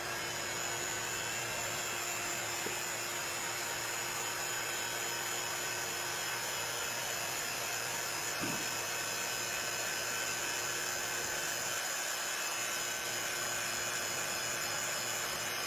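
Steady, continuous whine and hiss of a vacuum chamber pump running with a covered water beaker inside, unchanging and fairly quiet throughout.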